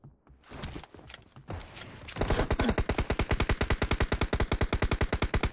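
Rapid automatic fire from a Vector submachine gun in the mobile battle-royale game PUBG Mobile: a short burst, a pause, then a long, loud, steady stream of evenly spaced shots.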